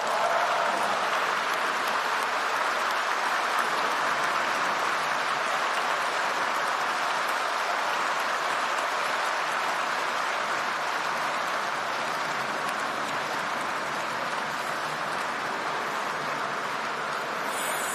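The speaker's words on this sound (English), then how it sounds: "would you mind just standing up so we can give you a round of applause?" Sustained, dense applause from an audience at a political speech, a steady wash of many hands clapping that holds evenly loud without letup for the full length, no voices standing out.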